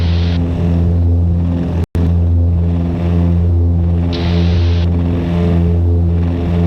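Propeller aircraft engines run at full takeoff power on a windy, cloudy day, a loud, steady, close, buzzing drone that holds throughout apart from one very brief dropout near the start.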